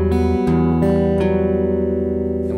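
Acoustic guitar fingerpicking: a short, close phrase of plucked notes ringing over a sustained bass, with a few brighter string attacks, and no voice.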